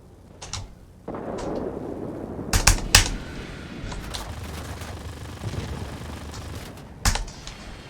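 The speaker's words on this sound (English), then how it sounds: "time to use rockets" Warplane rockets fired in the World of Warplanes video game, heard as a few sharp, loud bursts over a steady engine drone, with a small cluster of shots near the start and stronger blasts around the middle and end.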